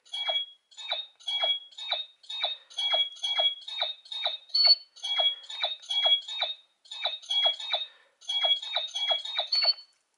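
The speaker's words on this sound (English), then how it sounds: "turn-on sound of the legendary Morpher." Lightning Collection Legendary Morpher toy powering on: a rapid run of short, bright electronic beeps in closely spaced bursts, clear and steady, with no voices.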